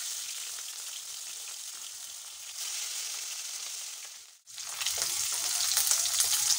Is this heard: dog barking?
no